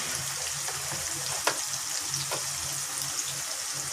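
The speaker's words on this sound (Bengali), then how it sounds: "পেঁয়াজটা একটু ভালো করে ভেজে নিব" Onions fry in a pan with a steady hiss and crackle, close and even, broken by a few sharp clicks of a utensil.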